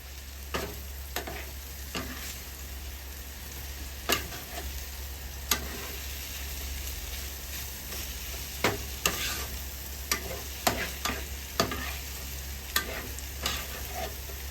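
Pork and egg stir-fry sizzles steadily in a pan, with a constant frying hiss and repeated sharp scrapes and taps of a spatula stirring at an irregular pace, close and alone.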